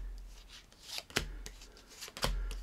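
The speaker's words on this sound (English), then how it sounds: "we can even do a Klondike shuffle" A deck of playing cards is riffled and slid through a Klondike shuffle, quick soft papery flutters and a few sharp snaps of cards, close and quiet.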